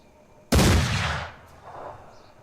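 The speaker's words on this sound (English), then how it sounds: "there's no harm in continuing to pepper the enemy with gunfire to try and wear them down a bit." Gunfire in the video game Mordheim: City of the Damned: one loud, sudden blast with a rumbling tail that fades over about a second, then a fainter follow-up burst.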